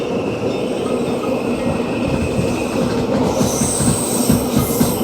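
The Bernina Express of Switzerland's Rhaetian Railway rumbles along from onboard, a steady loud roll with rhythmic wheel clatter and rising metallic squeals as it rounds curves.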